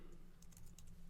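Quick light clatter of keys on a computer keyboard as a login address is typed, a brief run of soft taps over a steady low hum.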